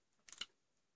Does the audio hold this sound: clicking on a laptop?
yes